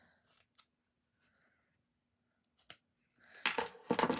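Cardstock pieces are trimmed for a paper box, with a few soft isolated snips early on, then a cluster of louder crisp cutting sounds close by at the end.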